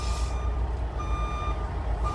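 Steady electronic backup beeps from a reversing vehicle ring out in a regular rhythm over a low engine rumble, fairly close.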